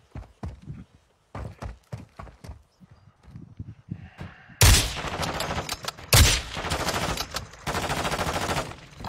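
Video game gunfire: faint scattered shots and footsteps at first, then heavy, continuous automatic fire bursts that grow loud and dense.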